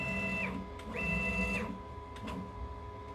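A CNC machine jogs 49 mm along one axis during rough cutting, giving a steady motor whine with rising and falling pitch sweeps as each move starts and stops, close and fairly loud over a constant hum.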